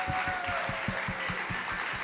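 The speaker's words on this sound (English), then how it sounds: "Please give them all another round of applause" An audience in a church at a Sunday Christmas celebration service claps together, steady rhythmic applause with a moderate, roomy sound and no voices over it.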